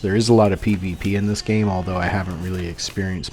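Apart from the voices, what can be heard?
No everyday noise stands out behind the speech.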